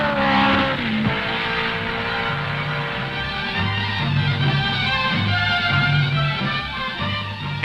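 Indy race cars with Ford overhead cam engines roar and drone continuously on a 1967 road course, pitch shifting as cars accelerate and downshift, loud and close with no talking.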